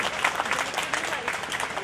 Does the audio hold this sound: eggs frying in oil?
no